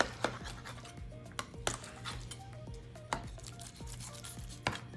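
A knife cuts through baked beef lasagna in its dish, producing several sharp clinks and taps against the dish at irregular intervals over a low steady hum.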